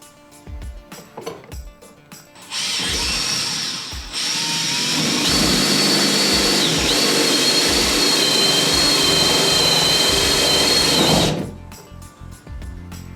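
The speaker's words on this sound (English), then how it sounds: "Now I'm going to drill this hole in the bottom lower right corner of the pocket" A power drill bores a hole through the lower corner of a plastic pocket on a Yamaha YXZ, giving a loud, steady whine for about nine seconds, with handling clatter before and after.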